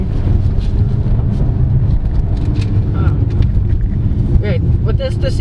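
A 2024 GAC GS3 Emzoom GS base model pulls away from a standstill, its engine and road rumble steady and loud beneath wind buffeting and talk, with a rising tone near the end.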